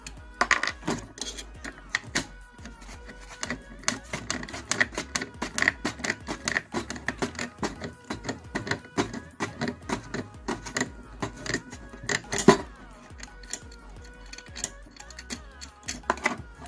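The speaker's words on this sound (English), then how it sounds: "So you just unscrew both sides." Sides of a Kinter amplifier case being unscrewed, producing a dense run of small metallic clicks, ticks and rattles of screws and tools, close and fairly quiet, continuing without pause and with no talking.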